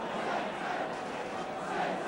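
A 1970s football crowd of Norwich and York supporters on the terraces gives off a continuous, swelling roar of massed voices, distant chanting blending into one broad wash of noise.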